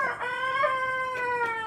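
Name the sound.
chicken crowing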